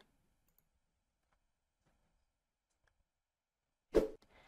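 A single sharp click from a computer mouse near the end, close and fairly loud after several seconds of near silence, with no talking.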